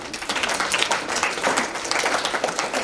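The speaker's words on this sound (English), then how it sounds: "Give yourself a clap" Parents at a school meeting clap together in a moderate, lively patter of applause that holds steady and fairly close throughout.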